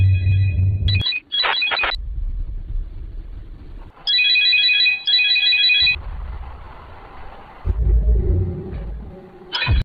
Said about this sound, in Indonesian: HP Emma pun berdering